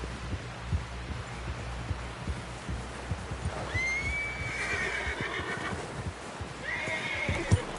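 Horse in the video game Red Dead Redemption 2 gives a couple of bright whinnies over a bed of rhythmic hoof clip-clop and low thudding, fairly close.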